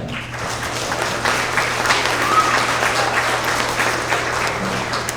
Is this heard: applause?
yes